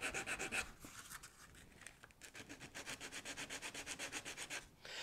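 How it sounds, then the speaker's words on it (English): Filler being sanded by hand on a 2005-2009 Ford Mustang convertible top, close and steady, with quick rhythmic rubbing strokes that speed up into a fast even back-and-forth scrub. "you can see it sands out pretty quickly"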